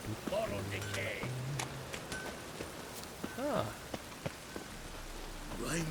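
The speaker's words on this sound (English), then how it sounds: "Rain was coming." Rain falling steadily in The Witcher 3: Wild Hunt on Xbox, a continuous close patter of drops on surfaces with a brief voice and a few scattered knocks over it.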